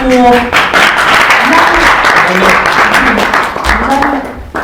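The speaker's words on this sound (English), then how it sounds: "Can we get a round of applause for" An audience at a talk applauds, dense steady clapping from a room full of people lasting several seconds, with voices and cheers mixed in.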